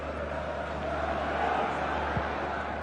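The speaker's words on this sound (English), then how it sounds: "Always colourful, always loud as well. Fantastic atmosphere. Always created by the Gabonese fans." Gabonese football fans in the stadium stands at a Kenya versus Gabon match, a dense, steady roar of crowd noise with a commentator's voice faintly beneath it.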